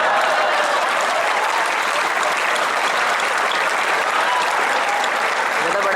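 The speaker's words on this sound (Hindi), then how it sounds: "जब तक सारे लोग तालियां नहीं बजाएंगे मैं रात भर आपको यही लाइन सुनाऊंगा।" A comedy show audience at a college campus festival breaks into loud, sustained applause, a dense wash of clapping hands that holds evenly for the whole six seconds with no talking over it.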